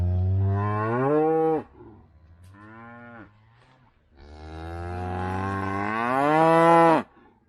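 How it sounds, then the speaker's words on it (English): Cows moo loudly and close by: a long low moo, a shorter one, then a drawn-out bellowing moo, with brief quiet gaps between. "These guys have been up and mooing at me"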